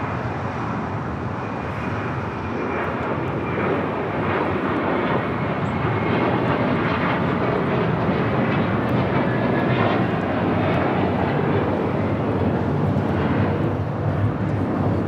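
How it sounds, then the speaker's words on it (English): An American Airlines Airbus A321 taking off for JFK roars steadily and loudly throughout, a broad continuous jet engine rumble with no talk over it. "This is American Airlines Flight 4 taking off to JFK on an A321."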